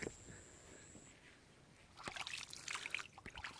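A hand touches and stirs cool river water near the Myittha dam in Myanmar, giving a faint, quiet trickle at first, then closer, louder splashing and dribbling toward the end.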